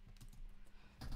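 Fingers tap out a Minecraft command on a computer keyboard: a quick run of soft, close keystrokes, then a firmer cluster of clacks at the end.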